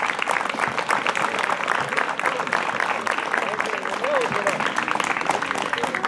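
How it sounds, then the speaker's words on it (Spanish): Strong, sustained applause from a crowd at a horse riding festival. The clapping is loud and continuous from start to finish, with speech coming through over it. "Fuerte el aplauso."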